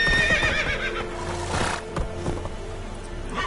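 Roach, a horse in The Witcher 3, gives a loud, close whinny that rises and then rumbles off, over a steady background of ambient game noise.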